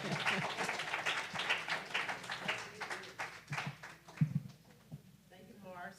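A church congregation applauds at a Sunday celebration service, with moderately loud, scattered claps running under a speaking voice and thinning out toward the end.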